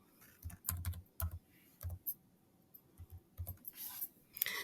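Close, quiet typing on a computer keyboard while editing a phone number in a website profile, with irregular bursts of key clicks separated by short pauses and no voices.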